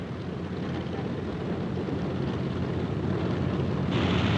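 Propeller blast from fighter aircraft on a carrier deck as handling crews push the planes into takeoff position: a loud, steady roaring wash of engine and wind noise throughout, with the hiss brightening toward the end.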